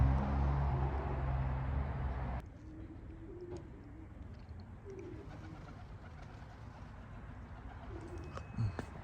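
Racing pigeons coo softly in short repeated phrases over a quiet outdoor background, after a louder burst of noise at the start.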